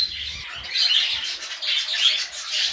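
A flock of caged zebra finches at a bird fair chirps in dense, high, overlapping tweets, fairly close and continuous, with no talk.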